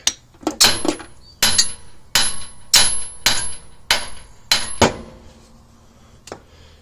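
Hammer blows knock stuck control arms out of bent brackets during a front axle removal, about ten sharp metallic strikes in an uneven rhythm, ringing loud and close, then a final lighter tap.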